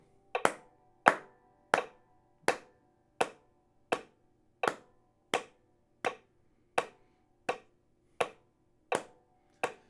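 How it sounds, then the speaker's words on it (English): Hand claps keep a steady, even beat of about fifteen sharp claps, close and clear with no other sound. "I'm going to clap"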